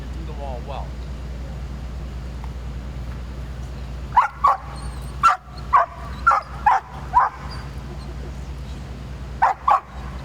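A Massachusetts State Police dog barking outdoors, a series of about eight sharp, loud barks in an irregular rhythm after a quiet stretch, with a low steady hum underneath.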